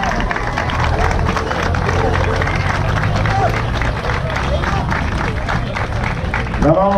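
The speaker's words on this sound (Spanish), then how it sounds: "¡Fuertes aplausos!" Loud applause and clapping rise from an audience at a Bolivian tribute event, thick and continuous with crowd murmur and some voices mixed in, plus a brief tonal sound near the end.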